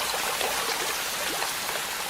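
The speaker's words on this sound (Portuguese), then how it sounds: "As chuvas transformam a floresta amazônica e muitos de seus rios." Steady rain pours down on the Amazon rainforest, a dense, continuous hiss of water close by with no voices or breaks.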